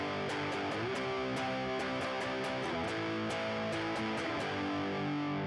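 Distorted electric guitar strummed in plain power chords during a lesson on playing power chords, a steady rhythmic chug of repeated chord hits with sustained overdriven tone, alone without talk.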